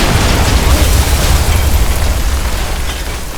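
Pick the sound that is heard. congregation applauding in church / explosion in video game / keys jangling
explosion in video game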